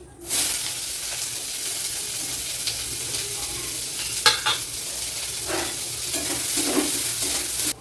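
Diced onions and green chillies hit hot oil with a mustard seed tempering and fry with a loud, steady sizzle. A few stirring scrapes and pops break through the hiss, and no one speaks.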